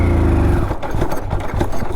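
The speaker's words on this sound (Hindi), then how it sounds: "थोड़ी सी ज़्यादा रेस भी करके दिखा देता हूँ। ये देखो क्लच छोड़ूंगा" A motorcycle engine revs loudly and steadily, then sags and sputters out after the clutch is let go, leaving uneven low rumbles and knocks.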